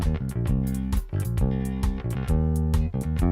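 An electric bass plays a reggae unison phrase, a run of deep, round notes in a quick, syncopated line, played loud and clear with other instruments in unison and no voices.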